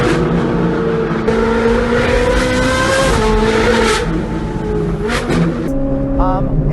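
A straight-piped Ferrari 458 revs hard, its loud, high engine note climbing and falling through repeated surges, close and dominant from start to finish, with a brief sharp blip near the end.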